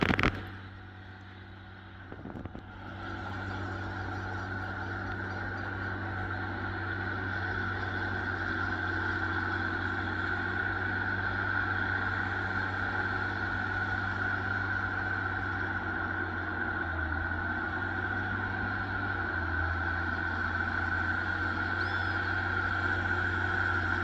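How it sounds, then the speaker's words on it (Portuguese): A 190-horsepower tractor engine runs steadily while levelling sandy farmland with a disc harrow, a constant loud drone that rises after a brief dip and holds for the rest of the time. "Esse trator aí, pessoal, tá com 190 cavalos"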